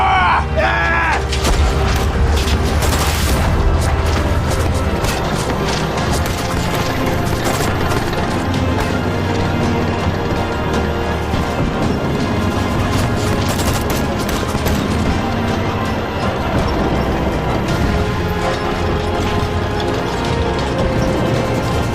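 Battlefield barrage in a war film: dense, continuous artillery blasts and rapid gunfire layered with mechanical clatter, loud and relentless throughout, with shouted voices briefly mixed in.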